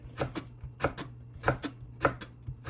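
Beetroot being chopped with a knife on a board, sharp regular cuts in pairs about every half second, close and fairly quiet with no talking.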